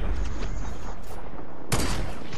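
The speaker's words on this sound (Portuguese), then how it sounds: "É tiro de aviso, é tiro de aviso." Warning gunshots ring out in the video game Fortnite: loud, dense gunfire fills the whole stretch, with a sharp fresh burst near the end.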